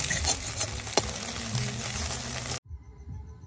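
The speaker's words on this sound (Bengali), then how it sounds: "দুটো ডিমকে ভেজে নেব।" Two eggs fry in a pan for chicken chowmein, a bright crackling sizzle with a sharp clack partway through, then the sound cuts off abruptly and a quieter kitchen hum remains.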